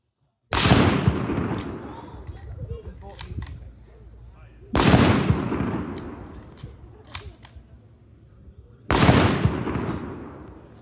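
Three loud blasts from World War 1 weapons fired at an outdoor living history demonstration, each a sharp boom with a long rolling decay, spaced about four seconds apart.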